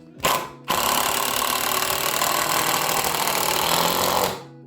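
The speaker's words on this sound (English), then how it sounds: "what I usually do is I put 2 Torx in on one side" Power driver whirring steadily as it sinks a Torx screw into slotcar track, a short buzzing burst, a brief gap, then a sustained loud motor drone of about four seconds that winds down, heard alone.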